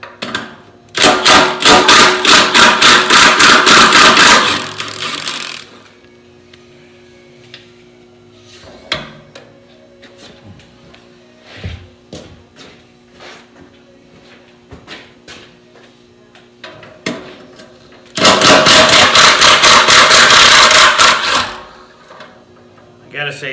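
A Milwaukee M18 Fuel cordless impact wrench hammers out the half-inch fuel tank bolts on a 1950 Allis-Chalmers WF tractor, two loud rattling bursts of several seconds each with quieter clanks and handling noise between them.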